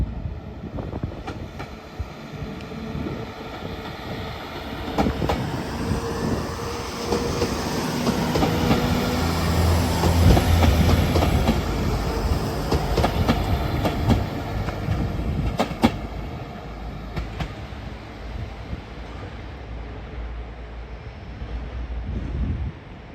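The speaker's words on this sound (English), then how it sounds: "Now departing is a 1609 Northern service to Leeds. Formed of 195121." A Northern Class 195 diesel train departing York station on the East Coast Main Line: a loud, steady engine roar with wheel clatter that builds and then eases, mixed with wind noise, and no voices.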